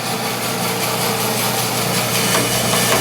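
A power saw blade cutting hardwood for a hammer handle: a loud, steady, continuous whine and rasp from start to finish with no pauses.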